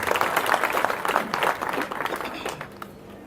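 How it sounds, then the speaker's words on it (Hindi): Audience at a review meeting in Chandrapur breaking into loud applause, a dense roar of clapping from many hands that fades out toward the end. "इनके लिए भी एक बार जोरदार तालियां बजवा दीजिए।"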